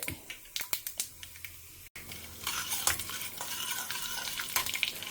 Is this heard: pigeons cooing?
no